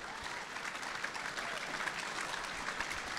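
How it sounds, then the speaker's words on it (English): A luncheon audience at a football premiership reunion applauds steadily, with dense, even clapping filling the room throughout and no break. "please continue that applause"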